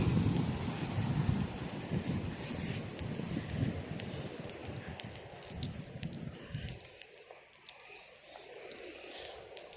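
Waves wash against the shore beneath gusty wind rumbling on the microphone; the rumble drops away near the end, leaving softer surf and scattered clicks.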